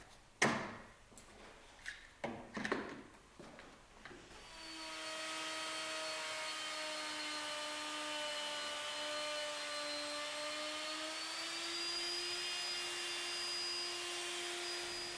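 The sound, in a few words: router cutting dovetail housing in wood on Woodrat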